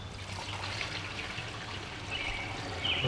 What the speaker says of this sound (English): I'm going to pour it slow to keep any crap that's in the bottom